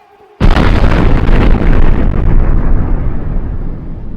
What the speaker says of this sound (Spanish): salieron con la explosión que prácticamente voló todo el edificio